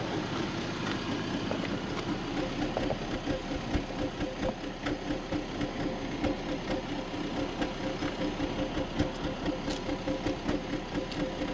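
A car engine, a Seat Altea, idling roughly and misfiring, a continuous uneven rumble with irregular knocks, fairly quiet and steady, no talking.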